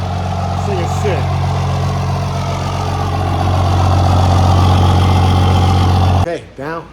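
A Cummins 5.9 diesel truck with a 5-inch straight-pipe exhaust idles loud and close in a deep, steady throb, swelling slightly before cutting off near the end, with voices over it.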